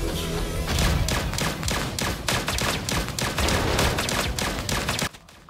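Rapid bursts of gunfire from the arcade shooter Berzerk Recharged, dense rattling shots fired in quick succession with thumping impacts, loud and continuous for several seconds before cutting off near the end.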